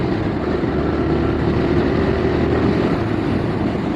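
TVS Raider 125 motorcycle running steadily at speed, a continuous low engine drone mixed with wind rush, loud and close with no talk.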